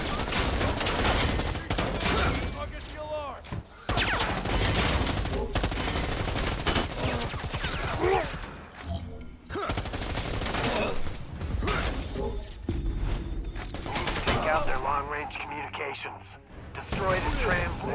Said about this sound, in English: let's blast the computer